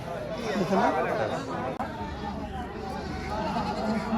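Goats bleat repeatedly at a busy riverside goat market in Naogaon, their calls rising over a background of crowd chatter and nearby talking.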